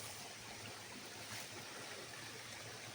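A small stream flows past the ruins of an old mill, a soft, steady babble and rush of water heard alone at low volume, with no voices.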